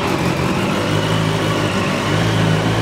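A motorcycle engine running on choke holds a fast idle around 1800 rpm during a coolant change, a steady, dense mechanical drone heard close and continuous without any voices.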